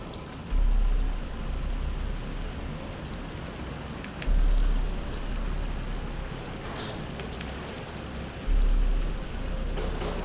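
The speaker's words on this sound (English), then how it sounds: "But it's starting to rain." Steady rain pours in Batman: Arkham Asylum, a dense continuous hiss with a few faint distant rumbles and periodic low swells, with no voices over it.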